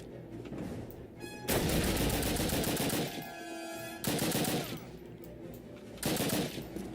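Call of Duty gunfire in bursts: three loud stretches of rapid automatic shots, each lasting about a second or more, with quieter game sounds between them and no talking.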